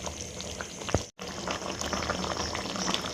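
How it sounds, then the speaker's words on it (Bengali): Chili soybean with capsicum simmers in a thick gravy in a pan, giving a continuous close bubbling and sizzling that carries on steadily, with one brief drop-out partway through. "পাঁচ মিনিট আমি সয়াবিনটা গ্রেভির মধ্যে ফুটিয়ে নেব।"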